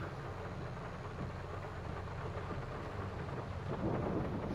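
Steady rain drums on a tractor cab roof in Farming Simulator 22, a dense muffled patter with a low rumbling hum beneath it, continuous and even throughout.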